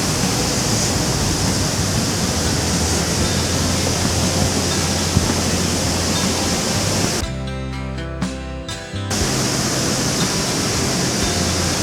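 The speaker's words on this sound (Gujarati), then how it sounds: "આ ઝરણો છે ને 365 દિવસ વહે છે અને આ બહુ જ ઉપર હાઇટમાંથી પાણી આવે છે" A waterfall near Mussoorie pours down from a great height, a loud, steady roar of rushing water that drops out briefly partway through before the roar resumes.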